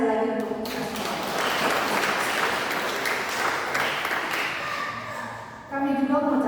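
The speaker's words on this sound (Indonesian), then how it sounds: "Tepuk tangan sekali lagi untuk kita semua." Applause from an assembled congregation at a Eucharist celebration, a dense sustained wash of clapping lasting several seconds between stretches of amplified speech.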